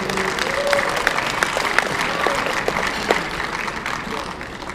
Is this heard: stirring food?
no